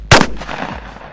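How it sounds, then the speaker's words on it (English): A single loud, close 12-gauge shotgun blast hits a lid at ten yards, giving a sharp crack followed by a short fading rumble and metallic ring. "Here's what happens with the regular shotgun."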